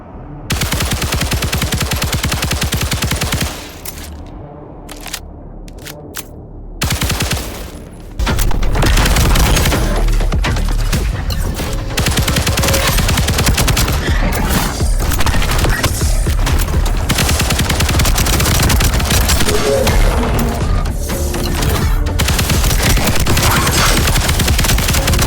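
Rapid bursts of automatic gunfire mixed with booming bomb explosions in a video game, dense and loud throughout, with a brief lull early before the barrage resumes continuously.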